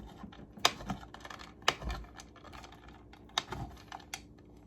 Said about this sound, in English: we are going to try as best we can to cut them and not kill my fingers